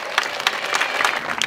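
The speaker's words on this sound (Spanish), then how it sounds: "¿Se merece un aplauso?" A short burst of audience applause for schoolchildren, brisk and dense clapping from a crowd, loud and close, lasting just over a second.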